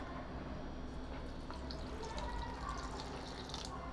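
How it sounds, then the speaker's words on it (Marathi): Water poured into freshly ground masala inside a kitchen mixer jar makes a faint, steady trickling wash throughout. "त्याच्यात थोडंसं पाणी घालते"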